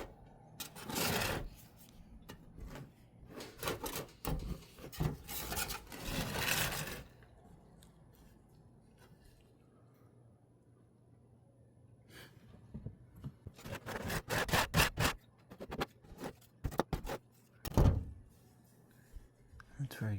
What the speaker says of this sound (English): I'm gonna use the scraper and just peel off the paint.